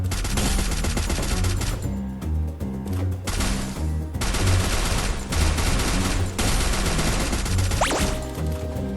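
Gunfire in a shooter video game: dense, rapid bursts and volleys of shots fire almost without pause, loud and close, over layered game sounds.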